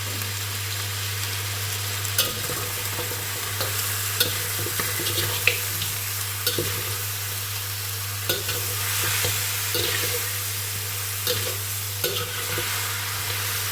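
Sinigang with vegetables cooks in a pot, giving a steady sizzling bubble over a constant low hum. Stirring scrapes and knocks come at intervals, and no one speaks.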